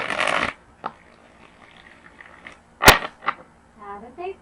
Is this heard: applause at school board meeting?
no